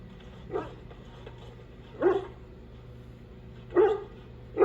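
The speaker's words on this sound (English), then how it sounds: "I like to go to him first so that way he doesn't bark while people are talking." A dog barks in the party camp of the video game Dragon Age Origins, giving three separate low woofs about 1.5 seconds apart over a steady, quiet game ambience hum.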